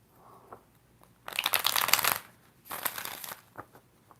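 Tarot cards being shuffled by hand in two brisk, crisp riffling bursts close up, with quiet handling sounds in between.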